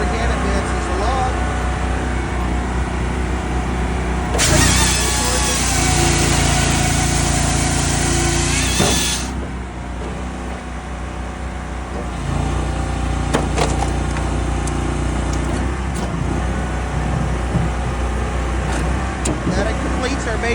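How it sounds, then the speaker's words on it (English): An SC14 engine runs steadily and loud throughout, its level surging higher for several seconds before settling back to a constant drone, with faint voices mixed underneath. "That completes our basic start and run of the SC14."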